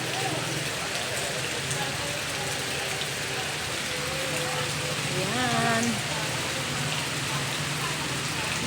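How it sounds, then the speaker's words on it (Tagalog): Heavy, steady rain pours down continuously in the background, forming a dense wash of sound, while a person's voice speaks briefly over it. "grabe pong ulan. Bigla nang umulan hanggang ngayon,"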